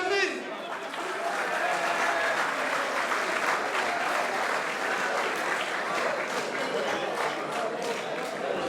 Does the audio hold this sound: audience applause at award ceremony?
yes